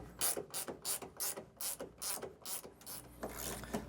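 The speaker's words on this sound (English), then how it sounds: "I'm using a specialty torque wrench because it's such a low torque rating" Quiet rapid ratcheting clicks in a steady repeating rhythm come from a specialty torque wrench tightening a clamp bolt while a Westin truck topper is fitted to a 2025 Ford Maverick.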